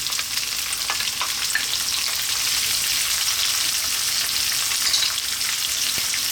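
Onion frying in a pan for egg curry over above-medium heat: a continuous bright sizzle, loud and close, with faint stirring clicks and no talking.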